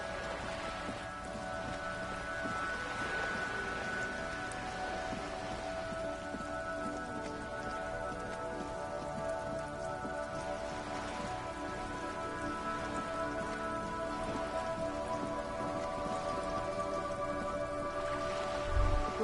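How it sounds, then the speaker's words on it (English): Steady rain falling on wooden boards and surrounding water in the Disco Elysium video game, a dense continuous patter with a faint low rumble under it, no talking. "All around you, rain keeps falling down. On the wooden boards she's standing on, and on the water around you."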